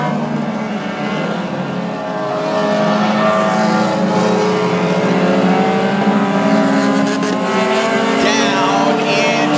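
Mighty Axe Hornet race cars roar around the oval at North Central Speedway, a loud, continuous layered engine drone that swells as the pack passes, with an announcer talking over it.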